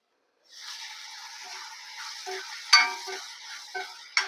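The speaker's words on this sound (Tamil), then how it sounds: "தக்காளி நல்லா வதங்கட்டும் இன்னும் கொஞ்சம் வதங்கணும்" Tomatoes and onions sautéing in a pan for a prawn curry, a soft even sizzle starting after a brief silence, with occasional spoon strokes and a couple of sharper clinks, close and moderate.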